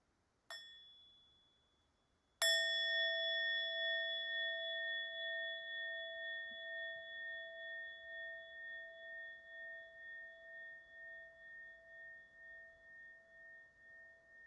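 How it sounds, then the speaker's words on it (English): A meditation bell rings out once in a quiet room: a faint tap, then a clear strike whose bright tone hangs and slowly fades over many seconds with a gentle pulsing waver. "And we'll start with one sound of the bell."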